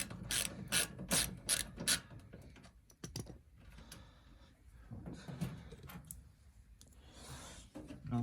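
Socket set ratchet clicks in quick rapid bursts near the start, then quieter intermittent ratcheting and metallic handling while removing the fan motor from a Zanussi TD200 auto reverse tumble dryer.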